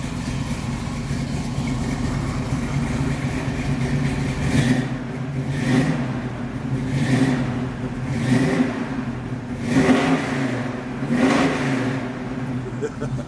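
A 1969 Chevrolet Camaro SS 396 V8 with a four-speed runs from a cold start, its low idle rumbling steadily before a series of rhythmic revs swells and falls about once a second, close and fairly loud.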